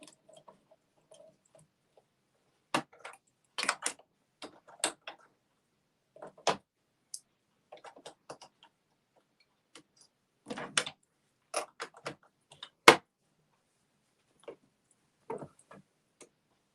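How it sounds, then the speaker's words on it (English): A new bobbin popped into a sewing machine, heard as sparse small plastic and metal clicks and taps against near silence, close and irregular, with no talking. "I ran out of bobbin, so let me pop another bobbin in real quick."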